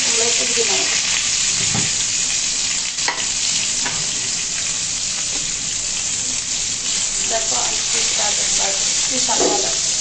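Steady, loud sizzling of eggplant frying in hot oil fills the clip, with occasional faint clinks and scraping, and no talking.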